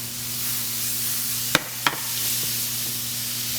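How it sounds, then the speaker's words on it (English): White beans in a hot pan give a steady, bright sizzle, with two quick knocks of a utensil partway through. "You should hear that nice hot sizzle."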